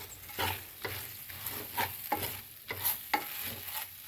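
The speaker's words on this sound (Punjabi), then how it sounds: "ਹੁਣ ਆਪਾਂ 2-3 ਮਿੰਟ ਬੇਸਣ ਪਕਾਵਾਂਗੇ" Sieved gram flour (besan) being stirred and roasted in a pan over high gas, with a steady run of scraping strokes about every half second against a faint sizzle, close and moderately loud, no talking.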